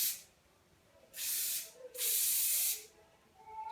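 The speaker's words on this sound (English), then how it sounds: "Give everything a good spray." Hairspray from an aerosol can sprayed onto styled hair, three hissing bursts, the last two longer, close and with no voices.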